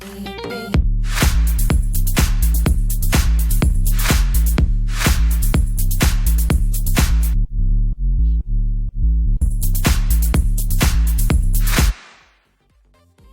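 Future house sub bass line from a Sylenth1 synth plays a punchy, rhythmic pattern of repeated short notes with a deep low end, briefly dropping out mid-phrase before resuming and stopping abruptly.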